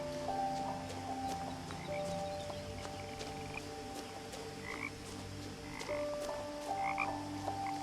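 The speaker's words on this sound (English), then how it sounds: "That frog sounds way too close." Frogs croak in the video game What Remains of Edith Finch, repeated close, loud croaks in an irregular rhythm over a steady outdoor night ambience, with no talk.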